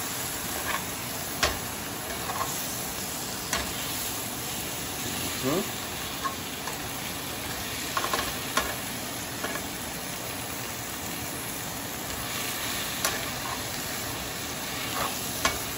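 Sweet potato leaves fry in a pan greased with drippings from cooking tocino and longganisa, a steady close sizzle with sparse spatula taps and stirring scrapes.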